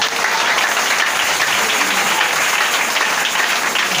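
A church congregation applauding to acclaim the Lord, a loud, steady wash of clapping from many hands filling the space without a break.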